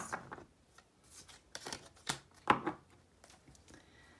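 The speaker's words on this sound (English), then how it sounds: "I thought some real-time tarot card shuffling would be nice." Tarot cards being shuffled by hand give soft riffling and slapping bursts in an irregular rhythm, close and quiet with no talking.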